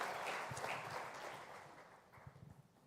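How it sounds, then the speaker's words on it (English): Quiet, distant applause from an audience at a management association award ceremony, a brief patter of clapping that fades within a few seconds. "big round of applause to yourself for getting the most covered award"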